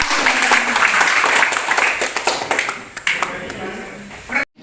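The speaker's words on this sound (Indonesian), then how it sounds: "Tepuk tangan silakan" Attendees at a Kutai Kartanegara health office traditional-health monitoring event break into applause, a crackle of claps close by with voices talking over it, thinning out before an abrupt cut near the end.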